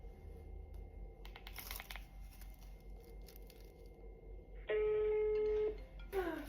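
A phone wrapped in aluminium foil is being called: soft rustling and handling noises, then a loud, steady electronic tone that holds for about a second before cutting off, followed by a brief warbling chirp.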